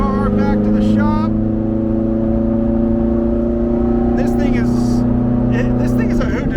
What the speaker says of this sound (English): So we're driving the 430 Challenge car back to the shop.